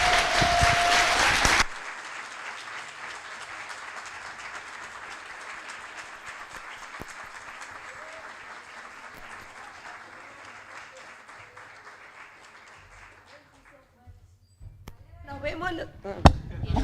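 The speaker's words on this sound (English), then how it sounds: "please, one round of applause to Hannah" An audience at a plenary talk gives a sustained round of applause for Hannah, a dense clapping wash that slowly fades out before voices return near the end.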